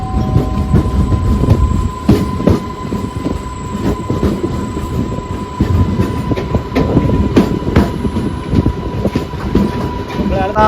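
A MEMU passenger train on the Panvel to Chiplun Diwali special run rumbles loudly and steadily, with rhythmic wheel clatter over rail joints, a sustained tonal hum, and occasional squeals.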